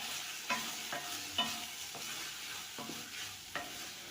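Ground masala fries in a pan, and a spoon scrapes and stirs it in about eight regular strokes under a soft, continuous sizzle, close and clear with no talking.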